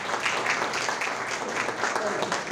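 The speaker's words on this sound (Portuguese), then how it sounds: "Uma salva de palmas aí, pessoal." A crowd of students, townspeople and officials at a large cultural event applauds in a dense, steady wash of clapping, with some voices mixed in.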